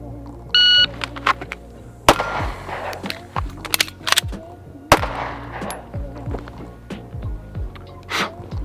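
An electronic shot timer gives one short, steady start beep near the beginning, and pistol shots from an M&P with a ported barrel follow in loud, sharp bursts. No one speaks.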